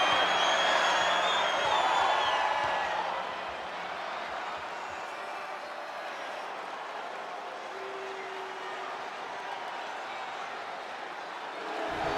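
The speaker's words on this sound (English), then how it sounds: "And Rocky is revving this crowd up" A dense arena crowd cheers and roars through a WWE 2K25 wrestling match between the Rock and Triple H, loudest at the start and then settling into a steady wash of crowd noise.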